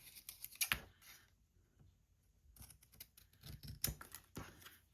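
Scissors cutting a fabric circle, with close, quiet snipping and crunching cuts in irregular clusters and a short pause partway through.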